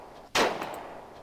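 A single sharp gunshot in the emergency-services video game Emergency 4, fired at a vehicle: one close, loud crack with a short ringing tail, alone.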